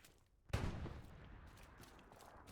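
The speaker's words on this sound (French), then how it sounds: "Attends, encore 2 obus, King" In the Hell Let Loose video game, a single artillery shell fire gives a sudden sharp boom midway, followed by a long rumbling decay, fairly faint and distant in the mix.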